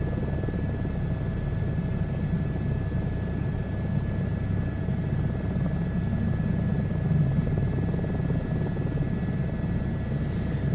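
A helicopter flies in a VR flight simulator game, a steady, unbroken rotor-and-engine drone that stays loud and even throughout, with no one speaking.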